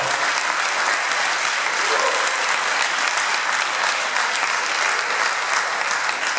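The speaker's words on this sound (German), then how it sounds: "jetzt nochmal ein drauflegen beim Applaus" Loud, dense applause from a large crowd at a presenter introduction event, a continuous roaring wash of clapping that holds steady throughout, with faint voices mixed in.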